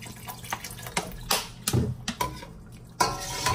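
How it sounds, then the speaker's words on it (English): Water poured into a cooking pot for a Lao pork dish, with irregular splashes and drips alongside a few metallic clinks of the pot, close and moderately loud without talk. "I'm gonna add a little bit more water"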